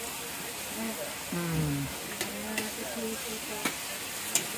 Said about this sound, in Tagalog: gisahin nyo mabuti yung kamatis. Ayan na ang kamatis na pinisa-pisa.